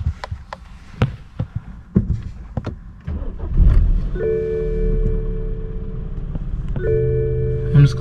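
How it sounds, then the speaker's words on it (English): A BMW F30 328i engine, fresh from an intake valve cleaning, cranks and catches after a few clicks and knocks, then settles into a steady, close, rumbling idle with a faint tonal whine. "So now let's start her up."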